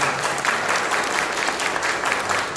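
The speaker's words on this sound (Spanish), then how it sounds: "Le doy un aplauso." A church congregation applauds after a sermon, a dense, sustained wash of many hands clapping at steady loudness with no talk over it.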